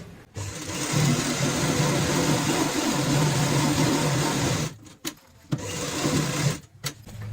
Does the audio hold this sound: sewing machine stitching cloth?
yes